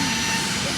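An airplane passes overhead, its steady, loud broadband engine roar filling the short clip with no break.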